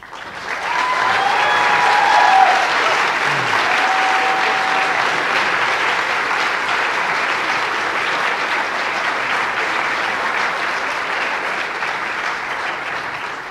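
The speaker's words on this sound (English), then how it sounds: "I can tell all the grades are in because the students are clapping." An audience at a 2013 Global Health undergraduate commencement breaks into loud, sustained applause that swells quickly and holds steady for over ten seconds, dense clapping filling the hall.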